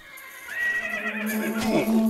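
A horse in the Minecraft video game lets out a single clear whinny that rises and then trembles downward, close and moderately loud.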